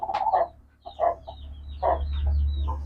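A hen sitting on eggs in a coop gives short clucking calls in a few bursts, close by, over a low steady hum.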